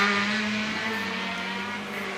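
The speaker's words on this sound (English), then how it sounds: "Certainly doesn't sound like Granny's standard Mini, does it?" A modified Mini race car accelerating hard up the Shelsley Walsh hill climb, a loud, steady high-revving engine drone holding a sustained pitch throughout.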